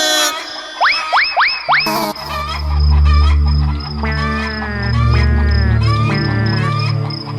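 Chickens in a poultry coop give rising squawks and clucks near the start, then a loud, droning musical backdrop takes over with scattered bird-like calls layered on top.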